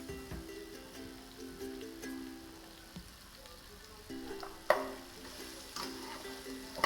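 Red pumpkin bhaji sautéed and stirred in a pan, soft sizzling with scraping spoon strokes, quiet overall with a few sharper clinks toward the end.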